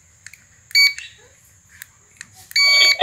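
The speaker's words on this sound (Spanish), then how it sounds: "Vamos a desactivar la alarma nuevamente." A GSM home alarm system sounds in short bursts of sharp, high electronic beeping, loud and close, separated by brief gaps with faint background noise.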